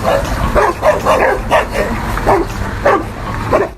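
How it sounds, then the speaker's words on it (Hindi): Several dogs bark back and forth at each other through a mesh fence with an open gate nearby, a rapid run of loud, close barks and yips repeating about every half second. "इस क्लिप में ये कुत्ता भाई लोग जाली में से एक दूसरे पर भौंकने में लगे हैं"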